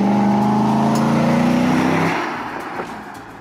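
A GMC Sierra AT4 pickup with a 6.2L V8 and an S&B cold air intake accelerating hard from a rolling start, its engine droning loud and rising in pitch before easing off and fading.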